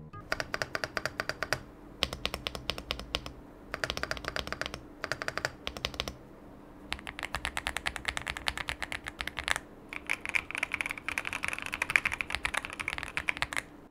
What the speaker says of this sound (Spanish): este teclado es muy bueno, muy clean, muy hermoso, muy bonito, se escucha precioso